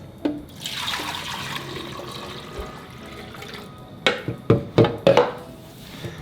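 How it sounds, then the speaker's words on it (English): Water poured from a container into the reservoir tank of a Keurig K Supreme Plus coffee maker makes a soft, steady hiss, then ends in a few sharp splashes and plastic knocks close by. "I'm gonna pour the max fill from this into this tank"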